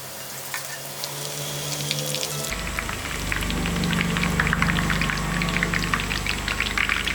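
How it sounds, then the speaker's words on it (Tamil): Boondi batter drops into hot oil for laddu, setting off a loud, steady crackling sizzle that swells after the first couple of seconds and keeps bubbling densely with no talk. "எண்ணெய் நல்லா ஹீட் ஆகிடுச்சு இப்போ நம்ம பூந்தி வந்து தேய்ச்சி விட்டுக்கலாம்"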